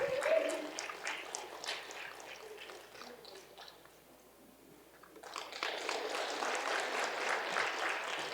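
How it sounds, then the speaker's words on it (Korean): An audience at a Lenten prayer gathering in a retreat house claps in welcome, a steady patter of many hands that dips to quiet midway and then swells again, fairly soft overall. "환영의 박수와 함께 모시겠습니다"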